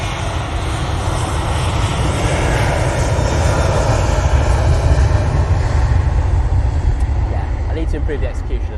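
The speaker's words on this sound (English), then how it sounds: "next in we've got the Ryanair 737 MAX 8 coming from Alicante" Ryanair Boeing 737 MAX 8 jet arriving from Alicante at Manchester Airport, a loud, steady low engine roar filling the whole span, with someone talking over it.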